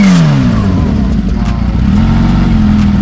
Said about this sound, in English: I can't even describe the power of just how it's revving in my hands right now.